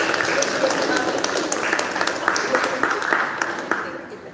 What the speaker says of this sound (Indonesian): Jadi tepuk tangan dulu buat kami.